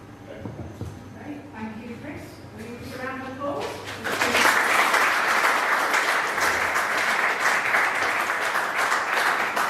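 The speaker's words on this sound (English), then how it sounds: "Will you give a round of applause?" An assembly audience claps at a winter gathering, starting as speech fades and swelling into a loud, sustained round of applause from about four seconds in.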